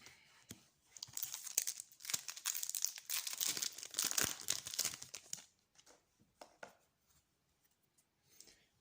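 Crinkly foil wrapper of a Toon Chaos trading card booster pack being torn open and handled, a dense burst of crackling and ripping for about five seconds, then a few softer rustles and pauses with no talking.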